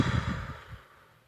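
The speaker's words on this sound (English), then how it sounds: "you do a long welcome breath." A long, slow breath taken at the start of a labour contraction, an audible close sigh-like exhale that fades gradually into quiet.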